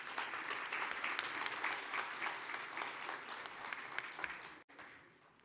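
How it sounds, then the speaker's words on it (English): A conference audience at the Namibia Oil and Gas Conference 2025 gives sustained applause for a closing speaker, a full, even roar of many hands that cuts off abruptly near the end before a brief resumption. "Let's give him a warm applause."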